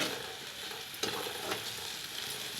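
Raw banana pieces frying in oil in a pan for a Telugu-style vepudu stir-fry, a quiet, steady sizzle with a couple of brief stirring scrapes, heard up close without any speech.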